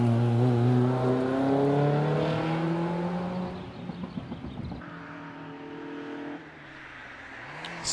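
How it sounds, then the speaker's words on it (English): A Mazda MX-5 launches off the line at the Prescott hillclimb, its engine revving loud and near, climbing through gear changes before the sound fades away into the distance. "off the line comes the first of our MX-5s in the hands of Steve Perry"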